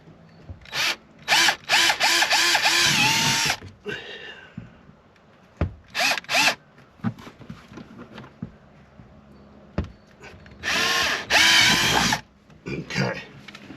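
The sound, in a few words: power drill drilling holes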